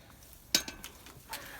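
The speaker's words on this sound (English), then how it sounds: "I don't know if you heard the chickens behind you." A few chickens cluck in short, scattered bursts nearby over a quiet background.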